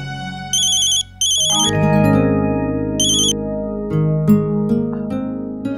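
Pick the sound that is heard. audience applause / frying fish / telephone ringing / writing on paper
telephone ringing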